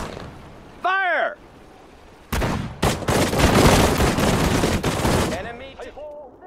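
Infantry gunfire from the Sudden Strike 4 battle of Saipan roars in a dense, loud burst of rapid shots after a single short report, with brief radio-style voice lines at either end.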